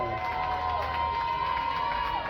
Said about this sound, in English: What an electric crowd. You can hear them here at General Foley Stadium in downtown Worcester.